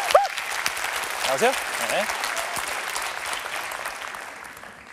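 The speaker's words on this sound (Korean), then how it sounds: "큰 박수 보내주세요" A studio comedy show audience breaks into steady, dense applause for a volunteer called up to a magic act, fading slightly toward the end while a host briefly speaks over it.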